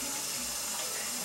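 Tap water runs steadily into a cooking pot as macaroni and cheese is being made, a soft, even hiss and splash heard close by for a short moment.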